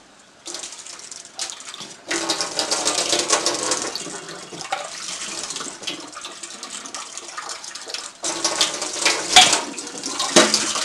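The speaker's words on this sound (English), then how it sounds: "I'm going to take a strainer and just strain off" Soaked dal being strained under running water for upma, a loud splashing gush that pours in bursts with brief pauses, close and alone.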